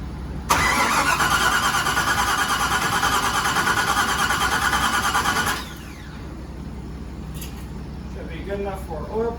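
Turbocharged LS-swapped Mazda Miata running through a muffler, with its coils disconnected, cranks over steadily and loudly for about five seconds, then the cranking stops and a quieter background with faint sounds follows.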